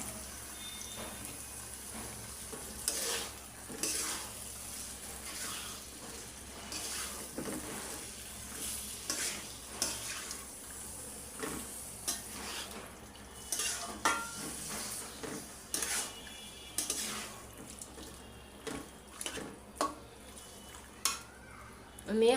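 Beef liver and potatoes frying in oil, a low sizzle broken by repeated stirring scrapes and clinks of the pan, fairly quiet and close with occasional sharper knocks.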